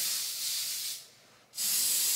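An aerosol spray can hisses in two bursts: a steady spray for about a second, a short pause, then another sharp burst of hiss. Close and fairly loud, with no talk.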